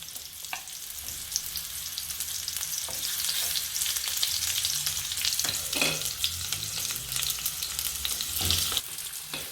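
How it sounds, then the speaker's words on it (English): Onions frying in hot oil in a wok for a chayote dish, a continuous bright sizzle and crackle with occasional stirring scrapes, close and steady with no talking. "we're going to add in our onions and let those fry off a little bit on their own"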